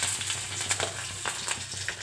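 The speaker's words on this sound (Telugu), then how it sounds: "ఇందులో కరివేపాకు రెబ్బలు వేసుకుంటున్నాను." Curry leaves drop into a hot tempering of dals, mustard seeds, cumin and dried chillies for a bitter gourd curry. A loud, steady, close sizzle with sharp crackles and pops runs throughout, with no talk.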